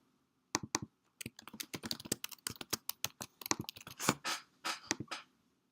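Quick bursts of typing on a computer keyboard while writing JavaScript code, with irregular clusters of crisp close key clicks separated by short pauses, quiet and without talking.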